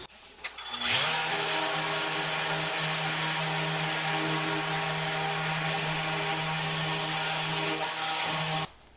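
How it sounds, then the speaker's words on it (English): K&S Precision Metals copper sheet is sanded with a power sander to remove oxidation, a loud, continuous droning buzz that holds steady for about eight seconds before stopping. "I'm going to sand it to buff off any kind of oxidation that has occurred to it."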